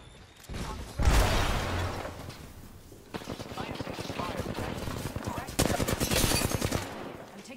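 Automatic gunfire in an Apex Legends-style battle royale match, rapid bursts of shots crackling in several loud clusters with a steady rattle between them, over a busy game mix.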